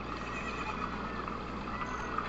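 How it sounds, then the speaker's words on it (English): Epona the horse whinnies in Ocarina of Time Master Quest, a soft neigh set against a steady ambient game hum, fairly quiet and without talk. "It's Epona the horse"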